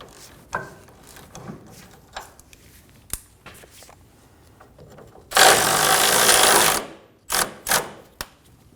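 A 30mm socket on an impact tool working a front rear upper control arm bolt on a 2019-2025 Ram 2500, with a sheared nut bracket; scattered clicks and clanks lead into a loud two-second rattling burst, then two shorter bursts.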